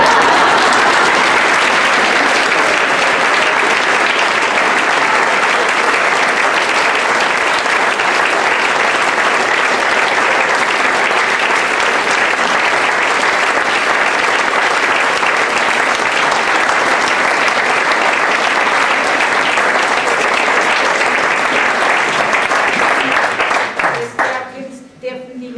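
Sustained, loud audience applause fills a German-language stage show by the Jabulani Ensemble in 2012, holding steady as a dense wall of clapping for over twenty seconds before tapering off abruptly at the end.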